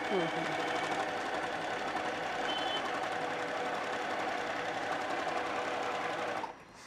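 An electric sewing machine motor winds the bobbin with a continuous, even whir up close, cutting off abruptly just before the end.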